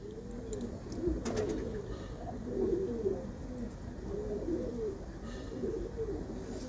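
Pigeons on a rooftop coo in soft, repeated rolling phrases at a moderate distance over a steady background hum, with a few faint clicks.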